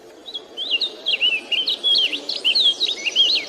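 Songbirds singing outdoors, a run of quick, high warbling phrases repeated in close succession over faint background insect-like hiss, clear and moderately near with no voices.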